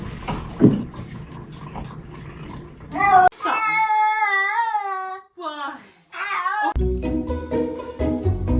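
A cat meows and yowls in several drawn-out, wavering cries, close and loud, with a burst of muffled background noise before them.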